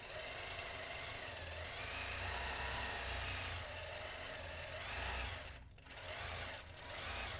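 A quilting machine stitches a pantograph pattern, giving a faint, continuous mechanical whir with a rapid low rhythmic chatter, steady throughout apart from a brief pause near the end.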